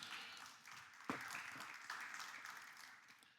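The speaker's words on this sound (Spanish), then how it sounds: "Denle un aplauso al padre" A church audience gives brief, moderate applause for the father in a sermon on the prodigal son; scattered clapping carries on with one sharper, closer clap standing out partway through.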